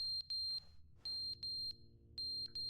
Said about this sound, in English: What's the beeping? It's the fire alarm.